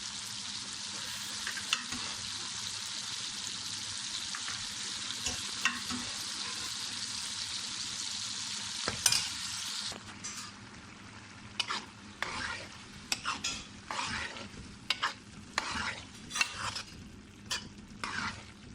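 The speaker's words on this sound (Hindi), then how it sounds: "थोड़ी देर 5 मिनट तक फ्राई करेंगे।" White beans (lobia) fry in tomato gravy in a pan, giving a steady close sizzle at first, then repeated scraping stirring strokes over a softer bubbling fry.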